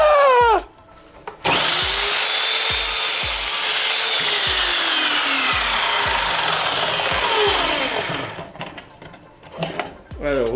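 An Evolution R210CMS miter saw spins up and its blade cuts through laminate wood, a loud close whine with a rough rasping cut lasting several seconds before the motor winds down, with clicks and handling noises before and after.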